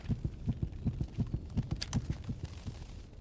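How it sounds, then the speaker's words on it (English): A loud, close heartbeat pounds in a steady quick double rhythm over a low hum in STALKER GAMMA just after a needle injection, with a faint bright tone rising briefly midway. "Instantly having your heartbeat accelerate as soon as you plug the needle in means it's the good stuff."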